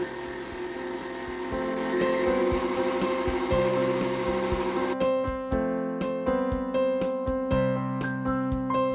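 An electric mixer whirs steadily while mixing wedding cake batter with powdered sugar under a cloth, a loud motor hum with rhythmic knocking that shifts pitch partway through.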